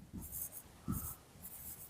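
Chalk or marker scratching out a physics derivation on a board, a few short faint strokes in quick bursts, close and quiet with no talk.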